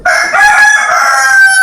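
A rooster crows loud and close outdoors, one sustained harsh call that holds its pitch for nearly two seconds with no other sound over it.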